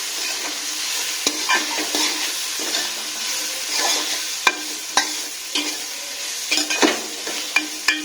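Food seasoned with black pepper and salt for a sweet pulao fries lightly in a pan, a steady sizzle punctuated by frequent scraping and clicking of a spatula being stirred, close and fairly loud.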